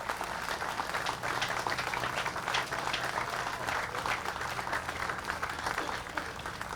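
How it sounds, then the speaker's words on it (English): Sustained crowd applause for military veterans at a July 4th patriotic parade program, steady dense clapping from an outdoor audience lasting throughout without a break. "How about a round of applause for our veterans who are in the parade today?"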